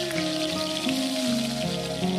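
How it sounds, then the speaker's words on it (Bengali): Salted, turmeric-coated pointed gourd (potol) pieces frying in hot mustard oil, a steady close sizzle and crackle with bursts of spattering throughout, no talking. "তেলটা ভালো মতো গরম হলেই প্রথমেই আমি এর মধ্যে নুন হলুদ মাখানো পটলগুলোকে ছেড়ে দেব।"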